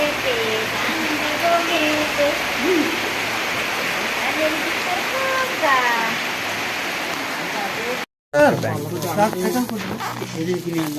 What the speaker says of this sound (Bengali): নেপালে বৃষ্টি পাচ্ছি